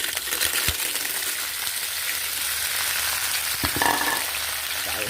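Clams are stir-fried in a pan with a dense, continuous sizzle, broken by a few sharp clicks of shells and utensil against the metal, close and steady.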